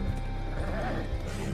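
Rosie, a horse in the video game Red Dead Redemption 2, whinnies in a brief bleating cry over steady game ambience and low rumble, moderately loud throughout.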